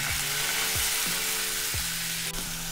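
Onion paste fries in hot oil with whole garam masala and bay leaf for mutton liver bhuna, giving a loud, even sizzling hiss throughout, with a few soft thuds from stirring and no speech.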